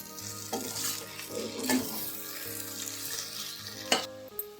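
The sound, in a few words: stirring papaya ghonto curry in a pan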